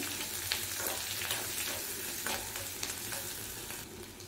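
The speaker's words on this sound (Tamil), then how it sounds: "வெங்காயம் நல்லா வதங்கணும்னு வேண்டாம், லேசாக வதங்கினா போதும்." Chopped shallots and green chillies sauté in a pan, giving a steady close sizzle and crackle with a few soft stirring scrapes scattered through, with no voices.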